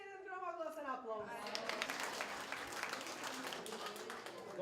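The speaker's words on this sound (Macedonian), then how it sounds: "дајте си еден громогласен аплауз" First-graders and an audience at a first school day ceremony break into applause, a dense wash of clapping that rises after a voice fades out and continues steadily, fairly faint and distant.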